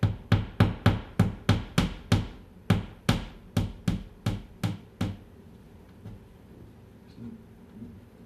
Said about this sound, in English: you can use a little nail, tap into the back